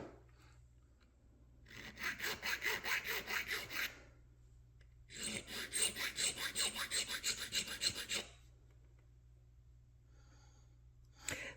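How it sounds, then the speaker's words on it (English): Square file rasping on brass cannon fittings, two bursts of rapid rhythmic back-and-forth strokes, close and moderately loud, separated by a quiet gap. "I'm just using my square file here to get that."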